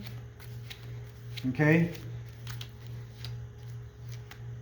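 Playing cards riffle-shuffled by hand during a card magic lesson, giving a quick run of soft crisp flutters that stay quiet and close, with a brief spoken word in the middle.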